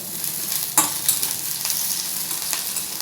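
Crushed garlic cloves and curry leaves frying in oil in a pan on a low flame for a spicy potato curry. A steady, fairly loud sizzle continues throughout, with a sharp stir or scrape near the start and softer ones after.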